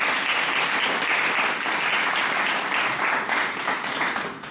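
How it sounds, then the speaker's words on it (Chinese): An audience gives a speaker named King a round of applause at a startup talk event, dense close clapping that holds steady for several seconds and then thins out toward the end. "掌声，谢谢我们King哥，谢谢。"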